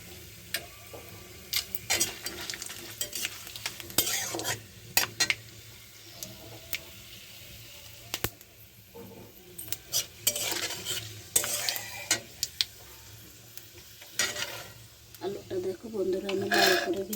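Panch phoron whole spices crackle and sizzle in hot oil for a cabbage ghonto, with scattered sharp pops and clinks of a spoon against the pan, fairly close; a voice talks intermittently over the frying.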